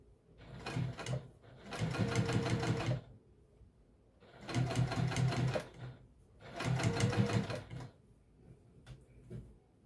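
A sewing machine top stitches an apron skirt for a vintage-style apron, running in three steady bursts of rapid needle clatter with short pauses between, close and clear.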